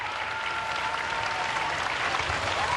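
An arena crowd claps in steady, dense applause after a five-hoop rhythmic gymnastics group final at the Pesaro World Cup, a continuous broad wash of hands sustained throughout.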